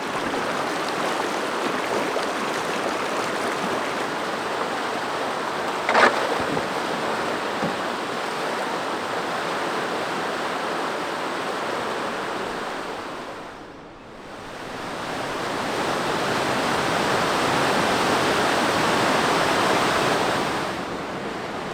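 Whitewater on a wilderness river rushes in a loud, continuous broadband roar, briefly dipping in level midway before swelling back, with no voices over the steady torrent.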